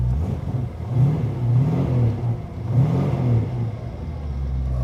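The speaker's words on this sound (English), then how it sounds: "I'll give it a little rev." A 1934 Plymouth car engine with stainless steel exhaust revs twice, rising and falling in pitch over a steady idle, close and fairly loud.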